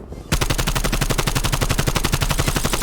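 After a brief quiet start, a video game automatic gun fires in one sustained rapid burst, evenly spaced loud shots continuing to the end.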